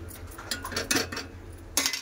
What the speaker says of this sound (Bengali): এবার চাপা দিয়ে দেবো